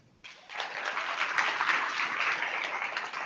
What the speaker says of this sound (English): We can give them just a little round of applause, okay?